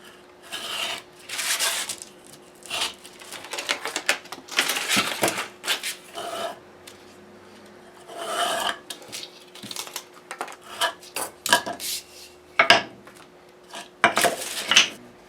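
A guitar fretboard is sanded during a refret with a 180-grit sanding block, producing a steady run of close, dry, gritty rasping strokes in uneven bursts with short pauses between them and no talking.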